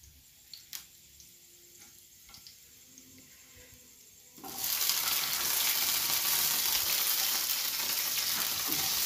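Capsicum dropped into a hot pan with garlic sizzles loudly and steadily after a quieter start with a few clinks, a close, continuous frying hiss.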